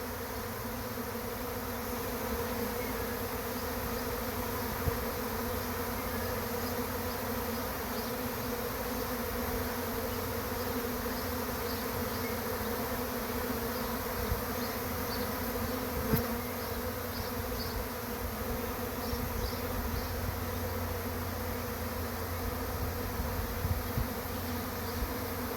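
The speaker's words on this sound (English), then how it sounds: "So many bees up in there." A dense honeybee swarm hums continuously, a steady close buzzing that fills the air without pause and with no voices.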